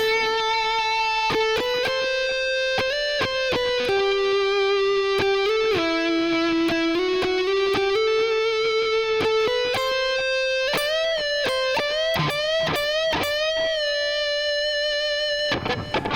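A sustained, slightly overdriven electric guitar melody on the neck pickup, smooth, warm tone, notes gliding and bending, then faster picked phrases climbing higher toward the end; the interlude from a song.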